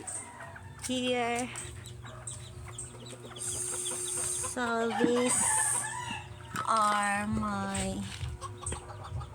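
Bantam chickens cluck and crow nearby in repeated bursts, mixed with clucking and other bird calls while a person talks.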